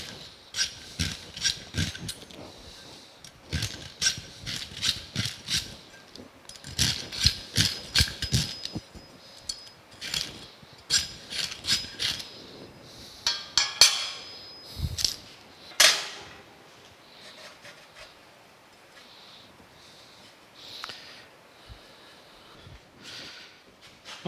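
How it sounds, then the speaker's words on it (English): A deburring tool scraping sharp edges off cut slots in a steel base frame and motor mount for a Crescent band saw, heard as repeated close, rasping strokes in rhythmic bursts separated by brief pauses. "I'm just going to take a deburring tool here. We'll deburr these, getting sharp edges off of them."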